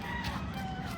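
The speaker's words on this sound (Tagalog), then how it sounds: "May manok." A chicken clucks and calls nearby against a busy outdoor background, the bird's voice steady across the short moment.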